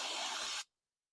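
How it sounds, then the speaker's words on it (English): A can of brake cleaner sprays onto a car's brake hub, giving one short, loud, close hiss that stops abruptly into silence. "Give it a little spray."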